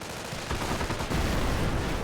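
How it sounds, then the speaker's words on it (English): A military vehicle explosion in the Company of Heroes strategy game, an M8 armored car blowing up, giving a dense, continuous roar of blasts and crackling gunfire-like bursts that swell louder after the first half second, with no talk. "Oh, wow. That was a spectacular explosion."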